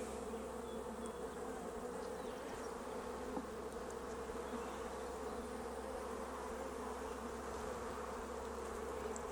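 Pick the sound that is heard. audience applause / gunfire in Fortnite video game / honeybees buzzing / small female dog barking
honeybees buzzing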